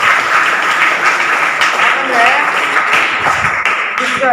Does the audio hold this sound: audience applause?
yes